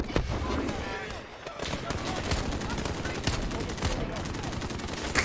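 Gunfire in Call of Duty Modern Warfare (2019) campaign: rapid automatic bursts and scattered shots, dense and continuous, with a brief lull, while a voice talks over the shooting.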